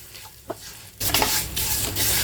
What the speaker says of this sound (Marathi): तूप तापल्यानंतर अर्धी वाटी भगर म्हणजेच बरई भाजून घ्यायची आहे मंद आचेवर